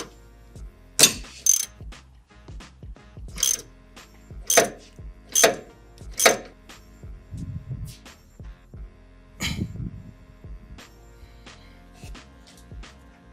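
A suspension bolt on a 2023 Chevrolet Silverado ZR2 is worked loose with hand tools, making a series of quick ratcheting clicks in uneven bursts with pauses between, close by and clear.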